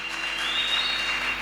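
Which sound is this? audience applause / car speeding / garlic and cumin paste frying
audience applause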